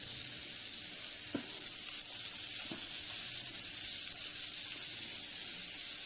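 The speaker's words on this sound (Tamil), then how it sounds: "இப்போ இந்த வெங்காயத்தை நல்லா வதக்கிக்குங்க" Chopped onions, garlic and ginger sautéing in a pan for empty salna, a faint, constant hissing sizzle with a couple of soft knocks from stirring.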